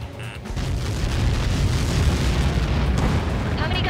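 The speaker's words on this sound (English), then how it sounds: "How many got caught in that explosion?" A heavy, rumbling explosion impact from the Ace Combat 7 combat flight game rolls on loud and sustained, its deep low boom lingering for several seconds with faint radio-style chatter tones at the start.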